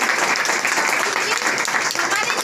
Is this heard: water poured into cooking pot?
no